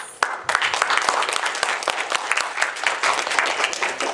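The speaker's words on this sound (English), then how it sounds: "let's give a round of applause to thank all the panelists" Conference audience clapping for industry panelists after a discussion, a close, fairly sparse patter of individual hand claps that stays steady throughout with no talking.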